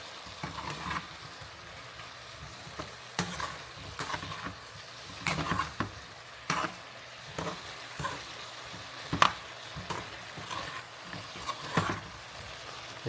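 Beef heart and liver fry and sizzle in a pan with tomato and dalle chili, a steady close hiss broken by repeated scraping stirs and clatters of the utensil.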